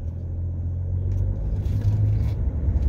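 A 2011 BMW 640d coupe with a 3.0 twin-turbo diesel drives on a test drive, heard as a steady low rumble from inside the car, with a faint rise in engine noise late on.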